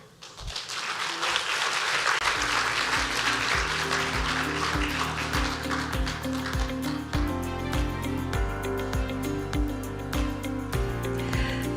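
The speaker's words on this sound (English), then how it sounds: "Another round of applause" An audience at a global ministerial summit on patient safety applauds in a broad, steady wash of clapping that gives way to music with a thumping beat.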